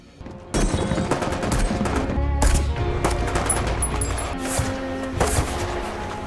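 Bursts of rapid gunfire crack and rattle, sustained automatic shots with a heavy low boom partway through.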